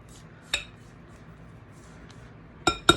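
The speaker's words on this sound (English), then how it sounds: "I'm going to clean down the sides of my bowl" Spatula clinks against a mixing bowl while frosting is being made, one sharp tap early, then two quick bright knocks close together near the end, over a quiet background.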